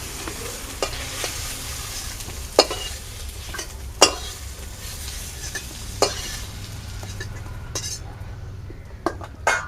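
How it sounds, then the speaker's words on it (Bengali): Eggplant pieces lightly frying in oil in a kadai in a village kitchen, a steady close sizzle with occasional sharp clinks of a utensil stirring against the pan. "তো বন্ধুরা এবারে বেগুনটা ওই হালকা করে ভেজে নেবো আমি।"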